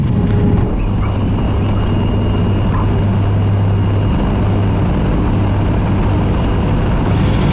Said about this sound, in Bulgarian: Аз обаче тотално изгубих самолета. Къде е? Чувам го.